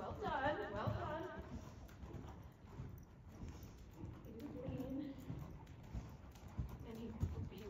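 A horse cantering during a riding lesson, rhythmic soft hoofbeats in the background beneath a rider's or instructor's talking voice.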